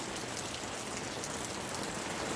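Pouring rain at a winter campsite in Prince Rupert, British Columbia, a dense, steady hiss of drops drumming on surfaces with no break and no voices.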